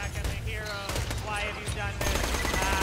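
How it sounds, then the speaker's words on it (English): Automatic gunfire in the video game Borderlands 2, bursts of rapid shots under game music and effects, heavier near the end, with voices talking over it. "Keep shooting."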